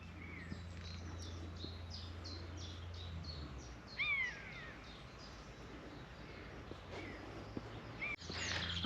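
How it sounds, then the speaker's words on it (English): Birds chirp and call outdoors in the UK, with crow-like caws and scattered tweets over a steady background hum, moderately near but not loud. "I hope you can hear the noises, the lovely bird noises, the chirping."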